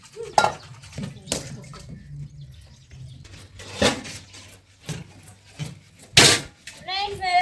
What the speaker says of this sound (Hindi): मेरे बर्तन धुल गए